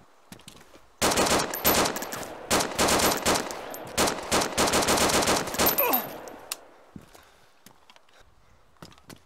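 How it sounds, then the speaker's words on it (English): Rapid automatic gunfire in the survival game DayZ, loud sustained bursts with short gaps for several seconds, then tapering into scattered distant shots and quiet. "Oh, they're shooting."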